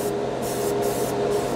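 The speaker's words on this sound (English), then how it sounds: "Looks like it's a spray can." A paint spray can hisses steadily in a loud, continuous burst aimed at a silver spoon, with short pulses of stronger spray and no voices.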